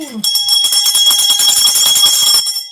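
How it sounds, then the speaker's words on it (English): A bell-ringing sound effect played during a finance exam Q&A livestream: rapid, continuous metallic ringing, loud and close, starting abruptly and lasting about two seconds before cutting off. "Ask not for whom the bell rings or tolls, it tolls for thee."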